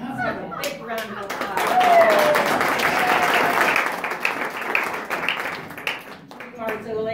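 Audience applause at a small theater show in San Miguel de Allende, a sustained wash of many hands clapping that swells early and then tapers. Voices and a few whistles or cheers rise over the clapping, with talk returning near the end.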